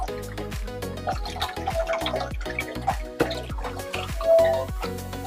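Guinea corn kunu drink drips through a kitchen sieve in a run of distinct, resonant drops falling at an uneven pace. The drops are close and clear, with no speech.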